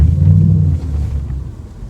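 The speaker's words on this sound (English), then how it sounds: "Such a nice sound, that V8 roar, you know? It rumbles" A Range Rover Sport SVR's V8 exhaust gives a brief, deep, loud rumble that swells at once and then slowly eases off, with no voices over it.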